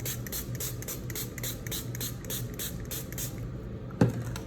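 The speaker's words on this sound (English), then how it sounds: "I'm just gonna spray the whole palette" Water misted across a metallic watercolor palette in a steady hissing spray of repeated short bursts, close and fairly quiet, followed by a sharp knock near the end.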